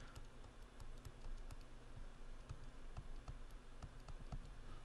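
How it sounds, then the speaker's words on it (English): A stylus draws on a Surface Pro 3 screen, giving faint, irregular clicking taps against the glass in a quiet room, with no talk. "So I have a pencil over here, so I can basically do some drawings over here."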